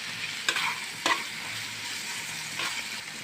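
Eggplant fries with small river jatka fish and chopped green chilies in a dry pan, giving a steady close sizzle broken by a few sharp spatula stirs and scrapes.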